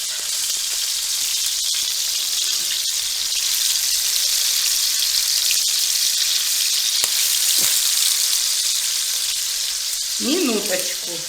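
Salted, peppered pieces of meat fry in a pan with a loud, dense, steady hiss, a few sharp crackles and clicks cutting through, and a brief muffled voice near the end.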